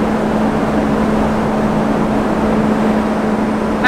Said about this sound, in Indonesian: Suara mesin, jadi berisik banget.